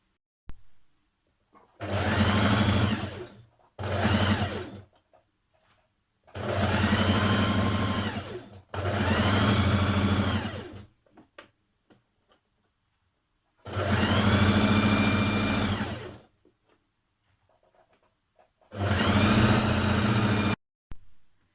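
A sewing machine stitches a trouser inner leg seam in six separate runs of a few seconds each, a loud close whir broken by short silences.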